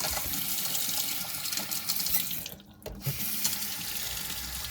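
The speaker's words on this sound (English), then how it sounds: "Then just turn on the hot water" Hot water runs steadily from a faucet into an RV sink, a close, constant hiss and splash with one brief dip in the middle before the full flow resumes.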